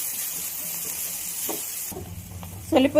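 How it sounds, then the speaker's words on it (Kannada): Tomatoes fry in a pan with ginger-garlic paste, turmeric and salt, giving a steady close sizzle that runs throughout, with a few louder stirring scrapes and clatters near the end. "1/4 ಟೀ ಸ್ಪೂನ್ ಉಪ್ಪು ಹಾಕಿ ಸ್ವಲ್ಪ ಫ್ರೈ ಮಾಡಿ"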